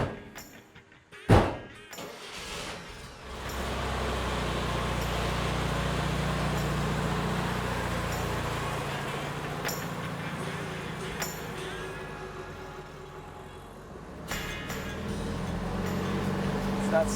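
A 1957 Volkswagen Beetle door shuts with a sharp clunk, then the air-cooled engine pulls away and runs on at a steady drone, heard from inside the car with faint voices now and then.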